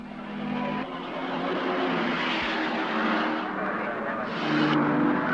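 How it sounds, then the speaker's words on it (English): Des West's four-barrel pacer roars past during a 1970 motor race, its engine noise swelling and fading as it flashes by, with other track noise around it. "Des West's four-barrel pacer flashes past to take over the lead"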